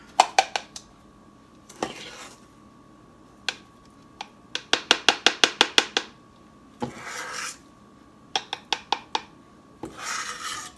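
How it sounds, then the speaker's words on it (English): A coconut oil body scrub with spearmint and eucalyptus being scooped from a jar, a series of close, sharp scraping and clicking strokes in quick bursts separated by pauses. "So I'm just gonna scoop this up."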